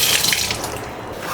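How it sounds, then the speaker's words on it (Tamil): Tap water pours steadily from a pipe over a mango ice cream mould, a close, bright splashing rush that runs throughout and eases slightly toward the end, with no talking. "இப்போ நான் வந்து இதை வந்து பைப்பில் வந்து தண்ணி பிடிச்சிட்டு வரணுங்க."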